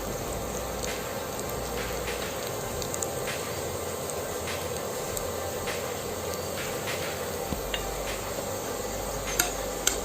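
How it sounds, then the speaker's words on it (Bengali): Lachha semai vermicelli frying crisp in ghee in a pan, a continuous dense crackling sizzle heard up close, with scattered light clicks of stirring and pan contact throughout. "এগুলো আমি মশমশা করে ভাজিয়ে নেব।"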